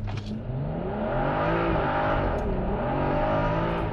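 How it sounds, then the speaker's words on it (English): A tuned, ECU-flashed BMW M235i pulls hard through first gear, its engine note rising in a loud, continuous, close-up roar from inside the car. "my first attempt really shows the power and torque improvement as it just blew off first gear and then immediately shifted in the second too early."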